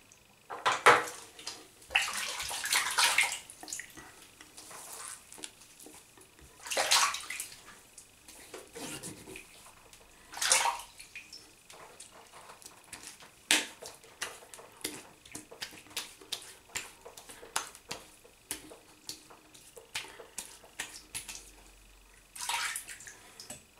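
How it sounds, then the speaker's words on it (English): Cold tap water runs and splashes in faint, intermittent bursts as a face is rinsed after a wet shave, with small drips and clinks between the bursts. "just rinse with cold water now"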